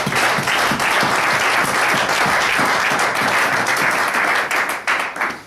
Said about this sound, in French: give a big hand to God